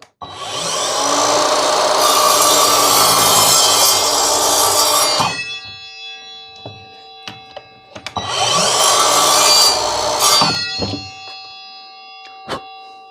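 An Evolution R185SMS-Li 18V cordless radial miter saw with a TCT blade, fitted with a 4Ah battery, cuts through wood at 90 degrees in two loud, sustained bursts. Each cut runs several seconds and is followed by quieter spin-down and faint clicks.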